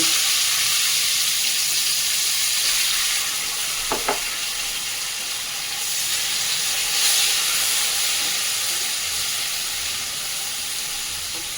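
Onions frying in a pan with a few small cardamom pods, giving a steady, close sizzle and hiss throughout, with a couple of brief utensil clicks partway through and no talking.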